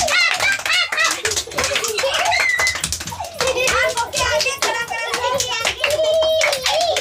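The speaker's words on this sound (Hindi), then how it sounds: "तो सब लोग इसके नाम पर ताली बजा दीजिए।" Crowd of children at a school prize event clapping for a winner, a busy, continuous patter of claps running throughout, mixed with children's voices and chatter.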